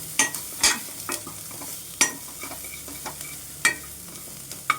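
Onions sautéed with salt in a pan for tomato soup: a spoon scrapes and stirs in sharp, irregular strokes over a low sizzle, with several distinct loud scrapes. No voices.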